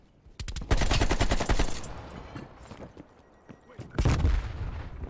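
DMR rifle fire in Black Ops Cold War: a fast, loud burst of sharp shots up front, a quieter lull, then another heavy burst of rapid shots near the end, with faint talk underneath.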